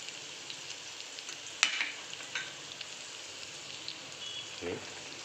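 Chili paste and curry leaves frying in a pan for upma: a quiet, steady sizzle with a brief sharp crackle as they hit the oil and a few soft stirring scrapes.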